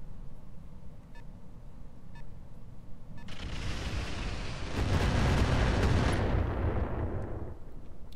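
Mechs in the Roguetech game fire weapons at an AMS turret, building into a loud, sustained roar of blasts and rumbling barrage that swells in the middle and then fades, with faint beeps before it.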